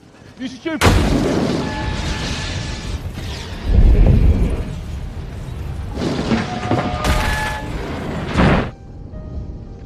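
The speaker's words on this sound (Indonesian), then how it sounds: "Saat orang tersebut hendak mengajar Kwan, tiba-tiba sebuah bom meledak di dekat mereka." A bomb detonating near people in an action film: a sharp blast followed by heavy rumbling booms and further explosive bursts, loud and close, with faint voices in between.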